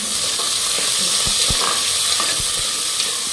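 Green chillies, curry leaves, onion and garlic fry in hot oil for a soya tomato biryani, giving a loud continuous sizzle with a few soft stirring clicks. Close, with no speech.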